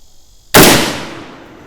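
A single loud, close gunshot from an M1 Garand rifle cracks sharply after a brief quiet and then decays into a short echoing tail.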